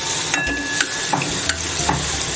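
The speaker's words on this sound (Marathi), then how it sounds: "गाजर मी 5 मिनिटं असं तेलामध्ये परतून घेतलं आहे" Small chopped carrot pieces stir-fried in oil for pav bhaji. A steady sizzle runs throughout, with several distinct spatula clacks and scrapes as the pieces are turned. Nobody speaks.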